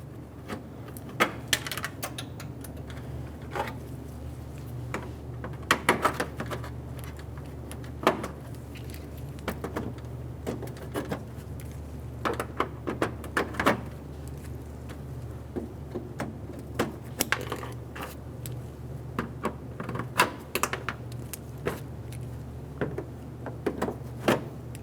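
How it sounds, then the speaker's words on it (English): Plastic trim clips are popped loose from the top trim piece of a 2003-2008 Honda Pilot, giving sharp irregular snaps and clicks scattered over a low steady hum, close and clear. "There's going to be 13 clips in this top trim piece. Go ahead and remove them all."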